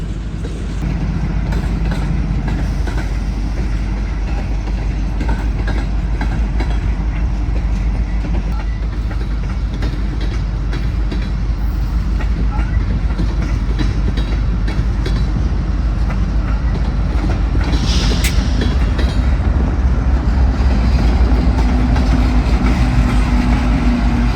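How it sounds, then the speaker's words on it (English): BNSF freight train rolling past on Union Pacific track, a continuous loud rumble of wheels and cars with rhythmic clatter and deep engine drone, close by and sustained throughout. "Gliding through track number 1, an inside gateway-bound BNSF freight makes use of Union Pacific's rails"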